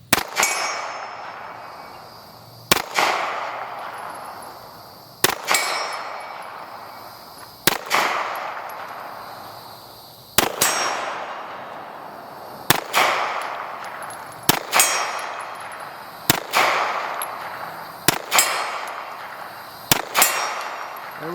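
A handgun firing .45 and 460 Rowland rounds in a string of nine loud, sharp reports at irregular intervals of about two seconds, each followed by a ringing decay, with no talking.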